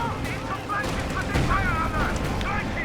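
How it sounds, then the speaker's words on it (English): Gunfire crackles in Company of Heroes 2 as a sustained battle din of shots and booms over continuous noise, with someone talking over it. "And these guys are already firing."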